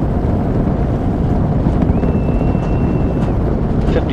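Space shuttle Atlantis's three liquid-fuel main engines roar during the STS-122 launch ascent, a continuous, loud, low broadband rumble that fills the whole stretch without letup.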